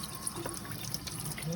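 Tap water runs into a kitchen sink while turkey wings are rinsed under it, a faint, steady trickle and splash with small drips and clinks throughout.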